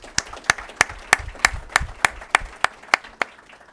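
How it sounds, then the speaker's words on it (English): A lone pair of hands claps at a steady, even pace in a quiet room, about a dozen distinct claps close by, at a sponsor acknowledgement during a talk. "Please give a warm and grateful round of applause for our sponsors."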